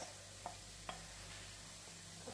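Cooked rice being stirred into a pan of coriander, turmeric and lemon mixture over low heat: a few soft scraping strokes of a spoon against the pan, spaced apart, over a quiet background hum.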